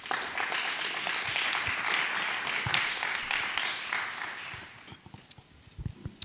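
A church ministry school audience breaks into sustained, dense applause, loud and steady for several seconds before thinning into scattered claps and knocks at the end.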